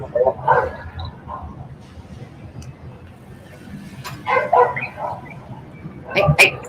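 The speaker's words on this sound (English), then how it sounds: "But those are dogs, though, right? Oh, they're in the background." Several dogs bark and yip in the background in short clustered bursts, some distant and some closer, while a person talks over them.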